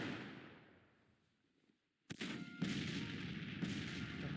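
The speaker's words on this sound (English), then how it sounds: "Our artillery can soften them up and maybe take an artillery gun or two out." Civil War artillery in Grand Tactician: a quiet, fading rumble drops to near silence, then a sharp cannon crack bursts in, followed by a sustained roar of distant guns with a second heavy thump near the end.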